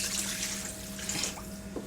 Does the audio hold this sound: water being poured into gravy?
yes